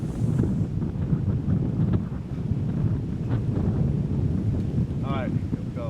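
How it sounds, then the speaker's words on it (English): Steady wind gusts buffet a microphone outdoors on a golf course, loud and rumbling, with faint voices and a brief chirp near the end. "Wind is tough."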